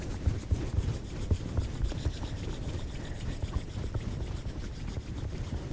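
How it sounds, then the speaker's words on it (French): Hands rubbed briskly together to warm them: close, rhythmic dry swishing in quick repeated strokes, steady and alone, with no talk. "Frotte une dernière fois."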